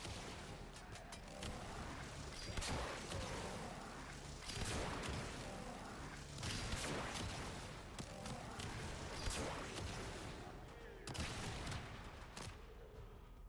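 Lenz bow arrows in the video game Warframe detonate among level 100 Corrupted Heavy Gunners, producing loud repeated booming blasts and rumbling explosions with dense gunfire-like crackle throughout.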